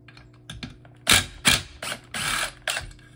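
Stihl MS-362c chainsaw muffler being taken apart, heard as a series of close, sharp metallic ratcheting clicks and clanks in irregular bursts, with quiet pauses in between.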